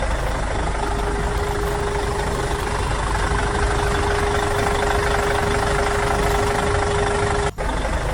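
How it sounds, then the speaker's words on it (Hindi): A toy truck's motor runs steadily and loudly for about eight seconds, holding a constant whine with a broad mechanical rumble underneath, then cuts off abruptly near the end. "चलो चलो ट्रक गाड़ी, जल्दी से आगे चलो"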